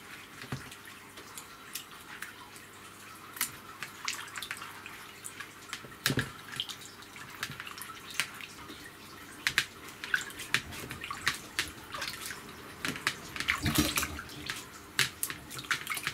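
Sculpin roe being rinsed under running water from a tap, a steady close splash and trickle with scattered drips and sloshing bursts, no voices.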